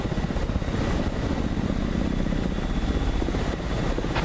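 Steady, loud rotor drone and turbine whine of a KA-50 helicopter cruising at constant airspeed in a flight simulator, continuous and unchanging throughout with no talk.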